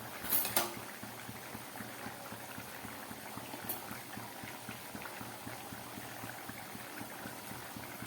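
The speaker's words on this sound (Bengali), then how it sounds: "ডালটা ফুটে উঠেছে" Chana dal (split chickpea lentils) with coconut boils in a pot, a continuous quiet bubbling with a regular popping rhythm and a brief louder clatter near the start.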